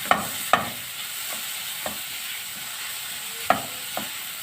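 Seasoning mixture stirred and frying in a pan, with a steady sizzle underneath and a few sharp scrapes of the spoon against the pan, close and clear with no talking.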